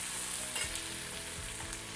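Star fruit (carambola) pieces fry in a hot pan, giving a steady, close sizzle with a dense crackle that holds level throughout, with no talking.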